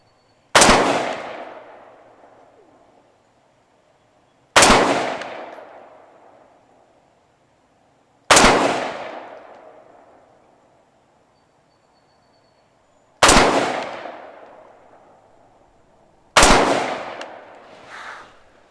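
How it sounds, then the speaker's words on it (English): Five rifle shots fired at a 50-yard target while testing a Vector Optics Maverick II Plus scope ring out loud and close, evenly spaced about four seconds apart, each sharp crack trailing into a long echoing decay. "So here we go with 5 shots at 50 yards."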